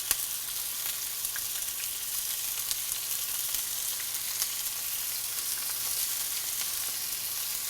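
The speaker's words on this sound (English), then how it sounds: "over medium heat, you want to add some onion" Chopped onion sizzles and fries steadily in a pan over medium heat, a continuous soft crackle with no talking.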